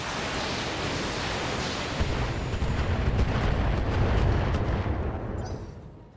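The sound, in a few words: tank cannon firing in the BattleTech video game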